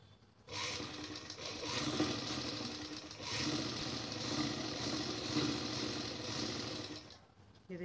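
A sewing machine stitches close along the base of a salwar seam near buckram, running steadily and close by for about seven seconds before stopping.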